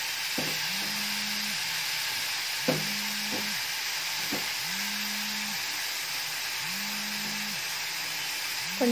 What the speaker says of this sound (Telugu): ఇదిలా తిప్పుతూ కొద్దిసేపు మగ్గనివ్వాలండి